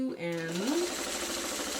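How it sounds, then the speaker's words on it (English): A sewing machine stitches a quilt block for Dorothy's Economy Block, running steadily and close up for under two seconds with no talking. "we can steer our sewing machine"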